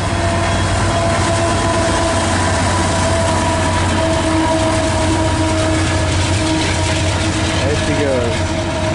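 Freight train rolling past with a rear DPU locomotive, a steady loud rumble with engine drone and tonal hum throughout, close by and continuous with no talk.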